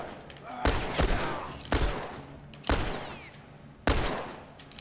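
Several loud bursts of gunfire in the video game The Last of Us Remastered crack at irregular intervals, each trailing off into a noisy rumble, with faint voices in between.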